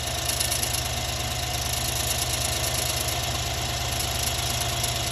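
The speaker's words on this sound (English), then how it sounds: "I've asked him to take a look at the wastegate bearing rattle" A car engine idles steadily with a worn turbo wastegate bearing, giving a constant low rumble and a fast, even rattling knock throughout at close range.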